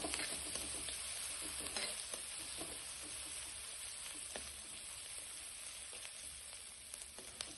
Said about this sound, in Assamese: এতিয়া এইখিনি ভাজি ল'ম, বহুত বেছি ৰঙচুৱাকৈ ভাজিব নালাগে।